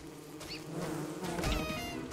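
Bees buzzing in the video game Don't Starve, a steady, dense droning hum that holds throughout, loud and close, with slight swells in intensity and no speech.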